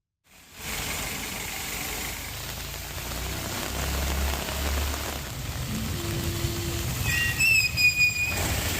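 Heavy rain pours over waterlogged streets in Kumbakonam, a dense, continuous hiss that holds steady throughout, with faint chirping tones near the end.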